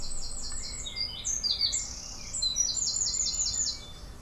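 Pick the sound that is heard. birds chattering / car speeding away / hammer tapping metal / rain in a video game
birds chattering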